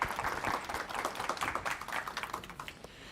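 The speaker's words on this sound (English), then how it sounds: "Give him a round of applause." A small audience claps at a student literary magazine and club awards event, a faint, thin patter of clapping hands from a modest crowd lasting a few seconds.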